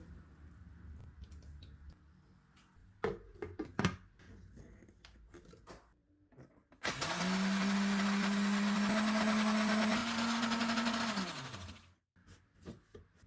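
A few clicks and clatters, then a blender grinding sesame, garlic and olive oil whirs loudly for about five seconds, its motor pitch shifting slightly as the mixture thickens, before spinning down.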